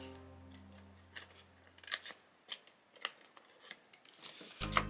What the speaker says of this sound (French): Je coupe les coins.